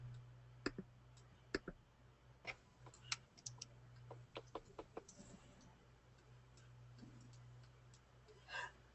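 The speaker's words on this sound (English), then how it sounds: "Lots of clicking." Sharp, irregular clicks come in scattered bursts over a low steady hum, some close together and some spaced out, sounding near and fairly quiet, with no talking.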